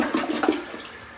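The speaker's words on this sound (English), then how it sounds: "let's see if this thing flushes good" Toilet flushing in a rental property bathroom, a brief close rush of gurgling water with no talk.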